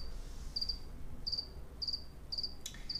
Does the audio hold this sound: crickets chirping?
yes